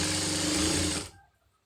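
A sewing machine stitching a blouse side seam, running with a fast steady whirring hum for about a second, then stopping abruptly into quiet.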